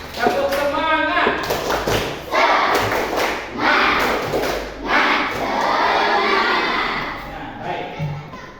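A classroom of children claps out a rhythmic spirit cheer, with loud repeated bursts of claps and shouting voices, close and lively throughout.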